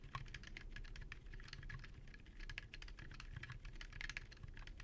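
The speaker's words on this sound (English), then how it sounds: "Here's the sound test." Quiet, muffled typing on a keyboard with silent Hall effect switches fitted with dampeners: a fast, continuous run of soft, low keystrokes close by, with no voices.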